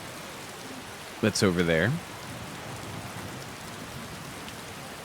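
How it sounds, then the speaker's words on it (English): Rain falls steadily in the video game Skyrim as a soft, even hiss throughout, with a short spoken remark early on. "I think it's still raining"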